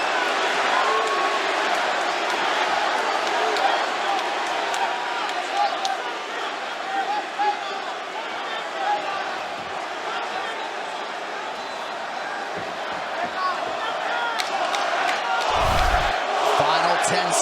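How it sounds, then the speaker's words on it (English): Arena crowd at a UFC fight between Jorge Masvidal and Nate Diaz, a dense continuous roar of cheering and shouting that swells louder near the end, with commentary talk over it. "Now the crowd get behind Masvidal."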